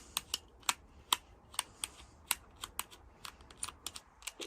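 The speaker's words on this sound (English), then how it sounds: "So we just undo the screw at the bottom here." Small sharp clicks and ticks from working on the battery compartment screw at the bottom of a belt-type sliding door opener remote, a quiet, close, irregular series of crisp taps with no talking.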